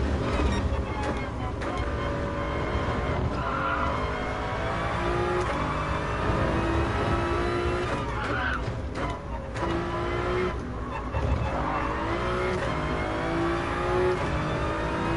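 Race car engines rev and whine through gear changes in a racing video game, steady and loud for the whole stretch, with rising pitch sweeps repeating every few seconds.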